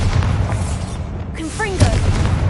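A Bombarda spell cast in the video game Hogwarts Legacy sets off a short booming blast, followed by rising magical whooshes and a second thump, all over a steady rumbling game ambience.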